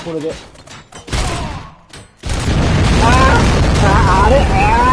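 Bomb blasts in the video game RoboCop: Rogue City, a few thumps early, then a loud sustained explosive roar with rumbling debris that fills the rest, with a voice talking briefly at the start.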